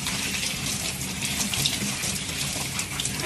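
Shower water runs steadily from a cold shower, a continuous broadband hiss and splash filling the space at even loudness without pause.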